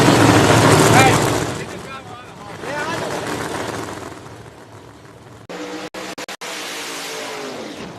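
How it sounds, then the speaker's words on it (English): Drag race cars roar through burnouts at a raceway during an outlaw drag racing event, a loud broadband engine rumble swelling and fading, then sharp gated revving bursts near the end, with crowd and announcer noise underneath. "just finishing up the burnouts over in the right lane"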